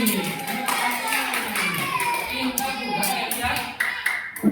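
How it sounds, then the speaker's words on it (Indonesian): Classroom clapping during an Indonesian primary-school lesson on pantun, a group of pupils applauding in a brisk patter with voices chattering over and between the claps. "Tepuk tangan, Mas Eli."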